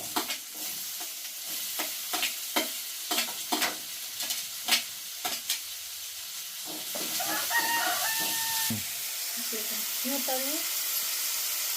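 Tomato fried in oil in a pan for a peas and potato gravy, with a spoon scraping and knocking in bursts over a steady sizzle, while a rooster crows nearby.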